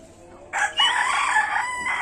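A Fayoumi rooster crows loudly and close by in a farm chicken shed, one sustained cock-a-doodle-doo that starts after a short quiet moment and runs to the end.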